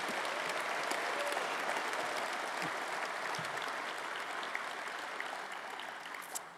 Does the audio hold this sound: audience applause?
yes